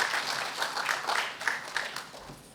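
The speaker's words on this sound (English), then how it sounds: "A round of applause, please." A seated audience applauds to welcome a woman onto the dais at a formal keynote event, with steady clapping filling the room throughout and swelling slightly in places.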